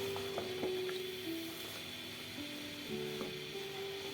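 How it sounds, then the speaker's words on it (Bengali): Shrimp stirred in a pan with coriander leaves, green chili and onion, with a steady close sizzle and a few soft utensil scrapes and taps against the pan throughout. "ধনে পাতা দেওয়ার পর একটু নেড়ে চেড়ে নেব ভালো করে"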